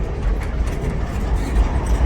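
A freight train with boxcars rolling past close by, a loud, steady low rumble of heavy cars with faint rhythmic rail clatter and no voices.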